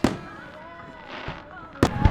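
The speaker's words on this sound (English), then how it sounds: "Bloody good fireworks too, eh?" Fireworks go off at a top fuel drag racing event at Perth Motorplex, a few sharp bursts at the start and near the end with crackling in between, distant, under a faint background voice.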